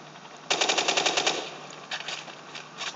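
Rapid automatic gunfire in a video game played on an Asus G73JH laptop, one loud sustained burst followed by a shorter, fainter one, with no talking.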